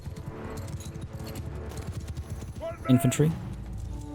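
Horses gallop in a Mount & Blade II: Bannerlord battle, a steady clip-clop of hooves running through the whole stretch alongside cavalry and horse archers, with a voice speaking briefly over a louder burst near the end.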